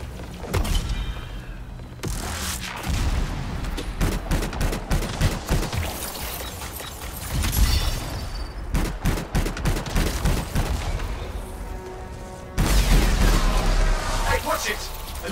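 A large gun fires in the Anthem video game, with rapid repeated heavy shots and booming impacts over a dense mechanical battle din. The volume surges near the end, and people talk over part of the clip.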